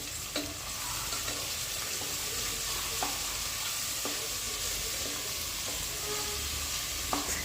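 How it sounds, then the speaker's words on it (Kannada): Carrot, beans, potato, peas, beetroot and cauliflower fry in oil for a village-style vegetable pulao, with a steady, fairly quiet hiss and a few regular clinks of stirring. "ಎಣ್ಣೆ ಬಿಡೋವರೆಗೂ ವೆಜಿಟೇಬಲ್ಸ್ನೆಲ್ಲ ಫ್ರೈ ಮಾಡ್ಕೊಳ್ತಾ ಇದ್ದೀನಿ"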